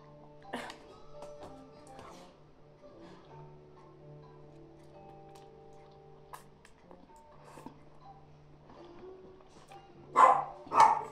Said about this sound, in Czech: Tam čeká v pozadí pes, ale to nevadí.